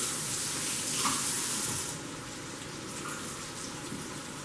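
Water is poured out of a bamboo steamer pot in a kitchen, a continuous close splashing gush that is fuller for the first two seconds, then eases into a softer trickle.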